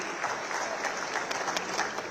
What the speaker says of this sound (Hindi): ताली बजाओ तो दिल खोल के बजाओ, ऐसा लगे कि ताली बज रही